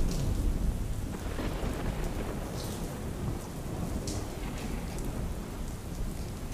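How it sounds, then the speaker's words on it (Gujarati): Heavy monsoon rain pours over villages in Kalyanpur near Dwarka, Gujarat, a dense, steady roar of downpour with low rumbling thunder underneath and no voices. "ધોધમાર વરસાદ વરસી રહ્યો છે"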